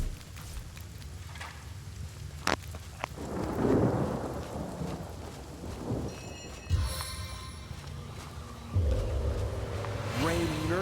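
Rain and rolling thunder in the video game Divinity Original Sin, a steady downpour broken by loud thunder cracks and rumbles, with character voices speaking over the storm at times.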